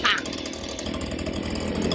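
Leaf blower running inside a high tunnel greenhouse, a steady close engine roar and rushing air throughout, with voices over it.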